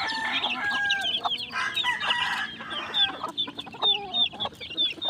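Chicks and chickens in a small backyard coop cluck and cheep busily during feeding, with overlapping calls and bright chirps close by and a rooster-like call among them.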